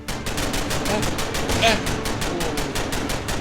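A heavy gun firing in the tank-chapter of the shooter game Under Occupation: Revenge, a fast unbroken stream of rapid mechanical shots throughout, loud and close, with a brief spoken remark partway through.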